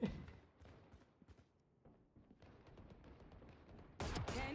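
Rapid gunfire in a shooter video game, bursts of clattering shots with thuds underneath, moderately loud, rising into a dense, harsh volley at the end.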